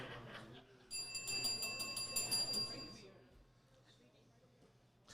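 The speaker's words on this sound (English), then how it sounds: "Does the bell work?" A bell rung by hand at the Hot Stove Society kitchen in the Hotel Andra in downtown Seattle, ringing loudly for about two seconds with a bright, sustained shimmer over background chatter before fading away.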